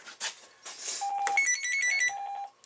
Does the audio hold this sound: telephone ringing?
yes